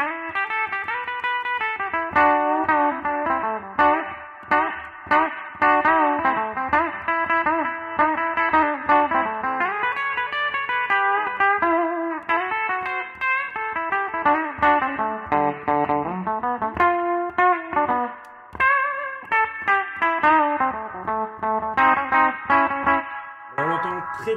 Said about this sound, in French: il y a cette espèce d'interaction entre le trémolo et la reverb qui est assez sympathique et intéressante